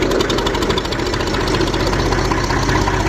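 A Massey Ferguson 35 tractor engine pulls away in gear with a few revs, giving a loud, steady, knocking diesel chug that runs unbroken without any talk.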